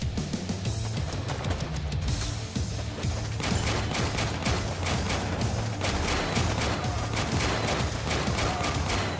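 Rapid gunfire rattles through a Warpips battle, dense volleys of sharp shots overlapping with heavier booms, continuous and loud across the whole stretch.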